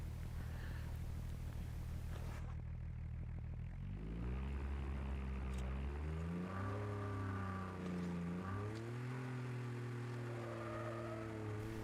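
Car in the Call of Duty Mobile game driving off: a steady engine drone rises and falls in pitch as it accelerates and shifts over about twelve seconds, loud and close, with no talking.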